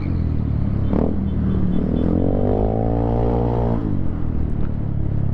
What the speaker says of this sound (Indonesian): di sini gue pakai knalpot ZM Project punya gitu ya